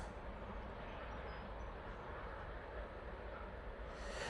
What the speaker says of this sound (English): It is the Loganair ERJ 145 coming in from Aberdeen.